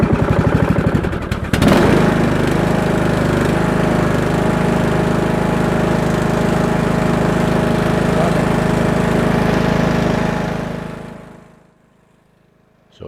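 A Craftsman T2400 riding mower, a lawn tractor that was smoking, cranks briefly and then its engine catches and runs at a steady, loud, close drone for about nine seconds before shutting off and falling quiet.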